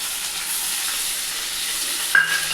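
Onion paste frying in hot oil with mustard and cumin seeds for chintakaya pachadi, a steady close sizzle and hiss with a brief stirring clatter near the end.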